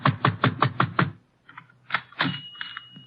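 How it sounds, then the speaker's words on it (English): Heavy fists pound a dark waterfront shop door in a radio drama, two bursts of about six rapid, close thuds each, then a pause and a few more scattered knocks. "but I pound on the door."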